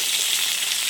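Potatoes sizzling in hot oil with fried spices in a pan, giving a steady, close crackling hiss for about a second with no voices.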